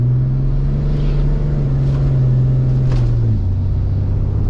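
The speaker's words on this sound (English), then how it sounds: "I'm gonna give it a little more throttle, like get it from like maybe first gear all the way to like fourth" A car pulling away under throttle, a loud steady engine drone holding one pitch then dropping briefly as a gear change occurs, close and continuous.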